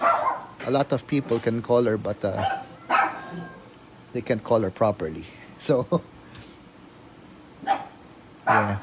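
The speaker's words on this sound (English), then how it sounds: "That's my dog." A pet dog barks several times in short, sharp bursts indoors, close and fairly loud, interleaved with someone talking.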